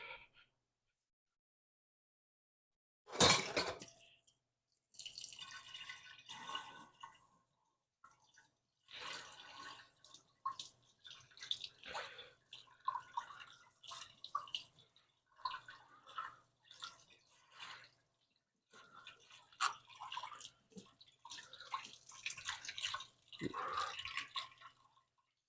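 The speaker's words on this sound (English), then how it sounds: "I'm gonna give it a little rinse." Water splashes and trickles in faint, intermittent bursts while the roots of a mulberry bonsai are rinsed, with brief pauses between the pours.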